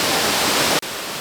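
Large waterfall in Dominica, a dense steady roar of falling water heard close and loud, with a brief cut partway through.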